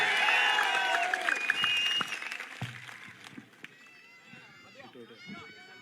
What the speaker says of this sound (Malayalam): ആ വടകരയുടെ കരുത്തുള്ള ഒരു കയ്യടിയോടെ പിഷാരടിയെ നമുക്ക് ഒരിക്കൽ കൂടി വേദിയിലേക്ക് സ്വാഗതം ചെയ്യാം